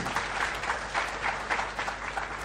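Audience applause filling a hall at the close of a medical oration on surgery, a dense, steady wash of clapping that swells in waves, fairly loud and without any talk over it.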